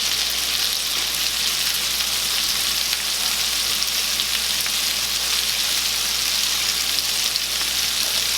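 Sausage, peppers and onions sizzle steadily in a hot pan, a dense continuous crackle of frying that stays loud and even throughout with no talk.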